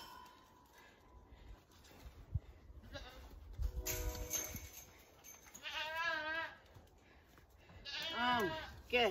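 A little goat bleats repeatedly in wavering cries, first in the middle and again near the end, with a person talking nearby and some background bustle.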